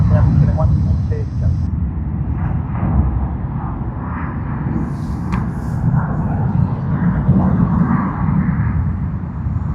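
A Vietjet Air airliner in Coca-Cola livery at Sydney Airport gives a loud, steady jet roar with deep low rumble that holds throughout, close and continuous, with no voices over it.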